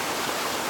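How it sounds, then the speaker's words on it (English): A Montana waterfall and mountain stream rushing over rocks: a steady, dense broadband roar of flowing water, close and continuous, with no voices. "You can see the waterfall up there kind of through the bushes and the trees."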